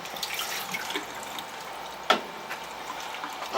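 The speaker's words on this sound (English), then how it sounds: "we want to run these things through water until that water is clear" Blackworms being rinsed under running water, a steady close hiss of water splashing with a brief louder splash midway.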